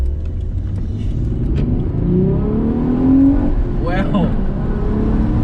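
A car accelerates hard under full throttle, its engine note rising loud and close from inside the cabin, with an excited exclamation from an occupant partway through.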